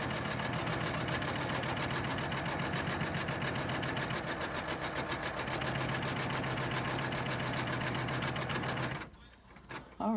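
An embroidery machine stitches a business card holder in the hoop, its rapid rhythmic needle clatter running loud and continuous for several seconds before stopping abruptly.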